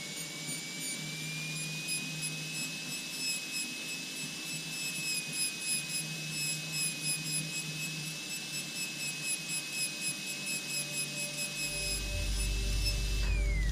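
A ball burr spins in a high-speed tool, whining at a constant high pitch while rasping in rhythmic strokes against metal during texturing, ending with a brief low rumble.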